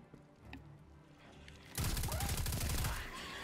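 Automatic weapon fire in the video game Destiny 2: a dense, rapid burst of shots erupts partway through, loud and sustained after a quieter stretch of game ambience.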